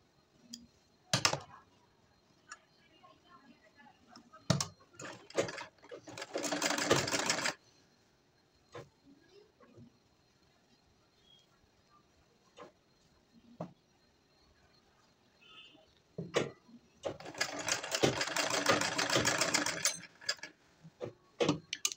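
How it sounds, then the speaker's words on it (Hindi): A sewing machine stitches the back of a matka neck blouse, running in two separate bursts of steady mechanical whirring. Quiet clicks and fabric handling fill the gaps between the bursts. "अब हम इस पर स्टिच लगाना स्टार्ट करेंगे इस साइड से।"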